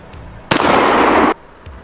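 A 12-bore double-barrel shotgun fires a single loud, close blast that rings on briefly before cutting off, with quiet surroundings before and after.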